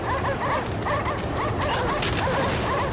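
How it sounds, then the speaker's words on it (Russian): Dogs barking in the video game Anabiosis: Dream of Reason, a steady run of repeated yipping barks over a dense rumbling background, moderately loud and continuous throughout. "Собачки гавкают, лед трескается"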